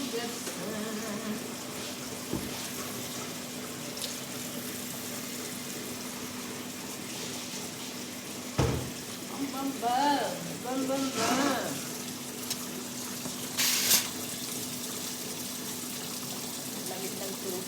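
Tap water running steadily while dishes are washed, a continuous splashing hiss with occasional clanks and thuds, under intermittent talk.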